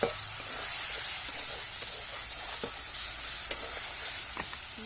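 Spices fry in oil with coriander stems as meat curry masala is cooked down, making a close, steady hiss and sizzle broken by a few soft stirring scrapes and small pops.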